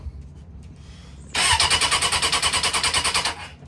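A Suzuki Bandit motorcycle engine being started after maintenance: a brief quiet lead-in, then the starter catches and the engine fires into a loud, pulsing, uneven idle that wavers rhythmically before dropping off at the end.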